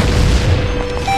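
A bomb blasts open a cracked wall in The Legend of Zelda: Ocarina of Time 3D's Water Temple, a deep booming rumble filling the whole moment.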